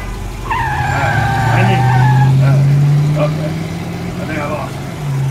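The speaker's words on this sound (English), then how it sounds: "Film noir car chase" A car engine revs and rises in pitch during a street chase, with tire skids and a person talking over the steady, close engine drone.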